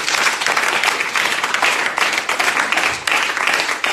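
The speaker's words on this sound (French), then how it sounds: "Est-ce que tu vas acclamer le Seigneur?" A church congregation applauding in praise of the Lord during worship: dense, continuous clapping from many hands that fills the space, loud and steady throughout.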